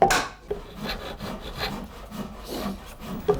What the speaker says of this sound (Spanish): Es esta otra labor minuciosa con la zuela, el formón, la escofina y la cuchilla.